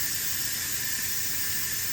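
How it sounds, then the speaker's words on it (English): A pressure cooker releases steam after cooking baked ziti, giving a loud, continuous, even hiss that holds steady throughout with no talking. "So we are going to release the pressure."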